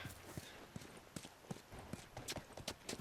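A horse's hooves clip-clop in The Last of Us video game, quiet, even hoofbeats walking at a steady pace in the background.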